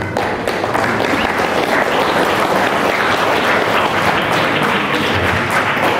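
Large crowd applause at a Ramadan safari event in Aceh Singkil following a speech by the Vice Governor of Aceh, loud, dense and steady clapping that continues without a break and sounds close.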